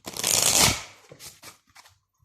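A deck of playing cards being shuffled by hand: a dense riffling burst up front, then several short soft card taps and slides trailing off, close and with no voices.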